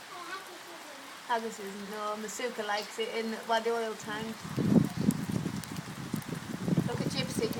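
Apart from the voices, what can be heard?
heavy rain pouring down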